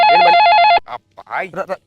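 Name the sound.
telephone ringing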